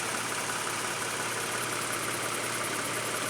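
Steady running of a Toyota Sienna minivan's 3.5 liter V6 engine, a constant close hum with a low drone, holding even throughout with no talk.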